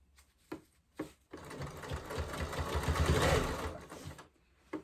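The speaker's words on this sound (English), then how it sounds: "I'm gonna finish sewing this." A sewing machine stitches Velcro onto a towel wrap, opening with a few separate clunks before a loud close run of rapid needle chatter that swells and then stops.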